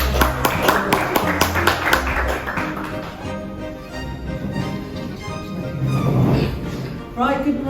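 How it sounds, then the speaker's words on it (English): A scattered round of audience applause at a finance conference as a speaker is introduced, with distinct claps early that thin out under a voice starting to speak, then a brief burst of clapping near the end. "Give a warm applause, please."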